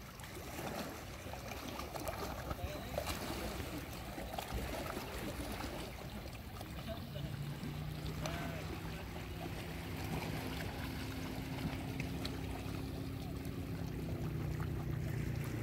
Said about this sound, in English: That way we can hear the water lapping.